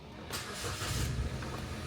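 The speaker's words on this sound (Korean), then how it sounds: "키를 돌리는 타입으로 시동을 겁니다" A small used Korean compact car, turned on with a folding key, cranks briefly and its engine catches and settles into a steady idle, fairly close and alone without talk.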